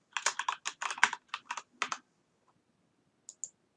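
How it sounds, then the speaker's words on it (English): Password typed on a computer keyboard: a quick run of about a dozen crisp, close key clicks, then a pause and two final taps, in a quiet room with no talking. "I've entered my password"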